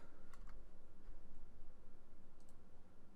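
Quiet, rapid clicking of computer keyboard keys comes from a desk, an even run of soft taps with a couple of sharper clicks, close to the mic.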